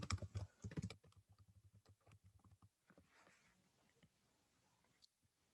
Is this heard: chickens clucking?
no